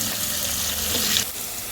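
Running water splashes and swirls steadily as rice is washed for jeera rice, a close, continuous wet rush that shifts slightly near the end.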